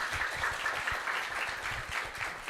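Audience applause at an international biohydrogen and bioprocesses conference after team pitches, a moderate, fairly distant wash of clapping from a seated crowd, steady throughout.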